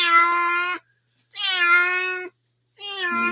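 A displeased feral cat named Great Kitty gives three long, loud, drawn-out meows with pauses between them, close and clear, with no talking over them.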